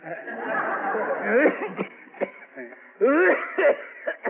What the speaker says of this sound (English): that's a bad cough you got there